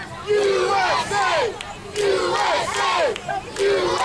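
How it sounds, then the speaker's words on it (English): An arena crowd at a Zero 1 USA Supreme Pro Wrestling show chants for a wrestler mid-match. Loud, rhythmic group chanting repeats in regular bursts with rising and falling pitch, carried by many voices together. "Gresham getting his momentum, enjoying the chant of the crowd."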